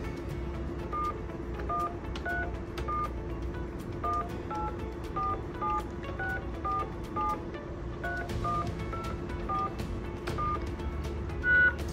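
Talkaphone ETP-500 emergency phone keypad sending DTMF dialing tones, a long run of short, evenly spaced beeps at varied pitches over a low steady hum, clear and close with no talking.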